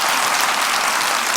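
Steady, dense applause from a theater audience, loud and even throughout the short stretch, with no voices over it.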